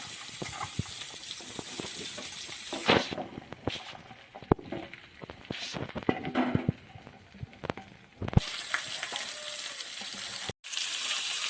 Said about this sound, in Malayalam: ഇനി നമുക്ക് തയ്യാറാക്കി വെച്ച പാവയ്ക്കയും ഉള്ളിയും മുളകും എല്ലാം നമ്മുടെ ചട്ടിയിലേക്ക് ഇട്ട് കൊടുക്കാം